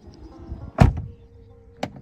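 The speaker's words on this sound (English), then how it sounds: "Soft closing doors." A Tesla Model X door soft-closes with one solid thud, followed by a fainter click a second later, in a quiet setting without talk.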